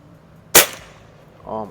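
A Beeman QB Chief air rifle fires a pellet at a 25-yard target, one sharp, loud crack that decays quickly, followed by a brief voiced sound moments later.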